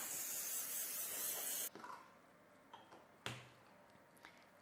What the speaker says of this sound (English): I'm going to use some cooking spray